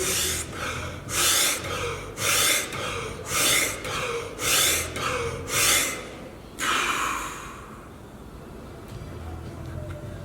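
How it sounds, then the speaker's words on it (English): A person takes a rapid series of sharp, forceful breaths in and out, about eight evenly spaced loud bursts, then one longer breath and quieter breathing afterward, with no talking. "it would literally be doing something like taking 10 quick breaths in"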